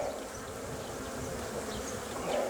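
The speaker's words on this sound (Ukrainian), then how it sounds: "Молода бджола, ось вона." A young honey bee, born this year, buzzes steadily at close range, a soft continuous drone with no voices.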